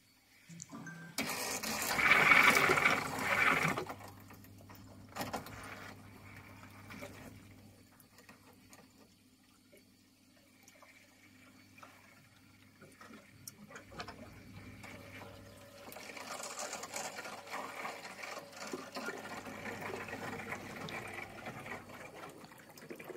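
Water drains from a boiler expansion vessel's drain valve into a bucket: an opening splashy gush, then quieter trickling with faint mechanical clicks, and a renewed steady flow later on.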